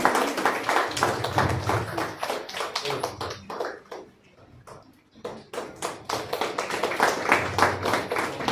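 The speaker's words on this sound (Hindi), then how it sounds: "एक बार जोरदार तालियां श्रीमती चंचल सिंह को।" An audience at an awards ceremony for unorganised sector workers claps in a loose, rhythmic burst of close hand claps, fading to a near lull midway before swelling again.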